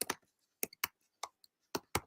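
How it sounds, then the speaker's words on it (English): Typing on a computer keyboard, a sparse run of sharp, close key clicks in small bursts with silent gaps between them, no voices. "So I'm typing furiously"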